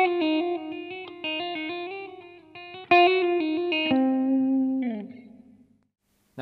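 An electric guitar plays a flowing lick of fast picked notes, then slides into sustained tones with a touch of echo that trail into silence.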